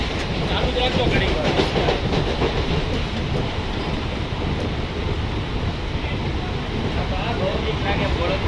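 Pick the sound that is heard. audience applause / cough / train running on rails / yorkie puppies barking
train running on rails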